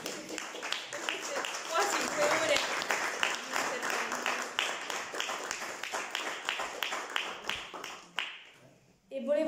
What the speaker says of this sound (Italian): Io vorrei lasciare intanto un applauso.